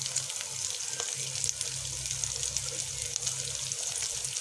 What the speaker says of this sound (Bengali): মাছের ডিমের বড়া হচ্ছে। একটা দিক উল্টিয়ে দিয়েছি।